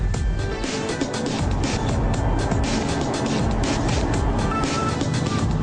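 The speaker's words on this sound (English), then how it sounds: "So here we are in the M5 Touring" A BMW E61 M5 Touring on the move gives a steady, loud, broadband roar of engine and road noise that holds evenly throughout, with no talking.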